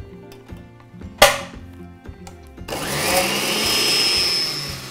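A countertop blender starts up after some clinks and a sharp tap, then runs loud and steady with water and eggs for a dairy-free creamer, a continuous whirring roar filling the last two seconds.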